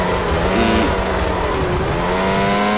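McLaren Mercedes Formula One car in the F1 2001 racing game, engine screaming at full throttle through Monaco's tunnel section, a loud steady high-pitched whine with rising and falling harmonics as gears change, no talk.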